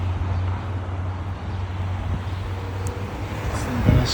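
An ambassador's car drives past on a street lined with embassies, a steady low road rumble with a faint swell of tyres and engine, no distinct peak, fairly distant.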